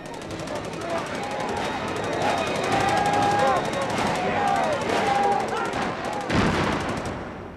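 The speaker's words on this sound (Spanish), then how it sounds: "los disparos de pistola consiguieron dispersar a la multitud" Rapid bursts of pistol gunfire crack through a noisy protest crowd, with shouting and a sharp loud report near the end.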